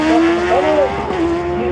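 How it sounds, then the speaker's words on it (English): A drag racing motorcycle tears down the strip at Tarlton Raceway, its engine a loud, sustained droning whine whose pitch wavers briefly, heard up close with no talk. "looks as though Satish tearing down the line completes the second round of qualifying"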